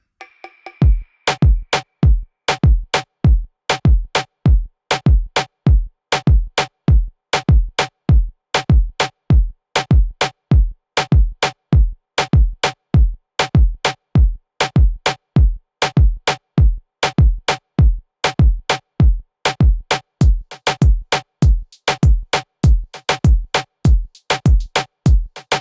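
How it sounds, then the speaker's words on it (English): A loud, driving electronic reggaeton drum beat plays alone, with punchy kicks and snappy hits repeating in a steady, syncopated dance rhythm throughout. "I processed all of my drum MIDI into audio"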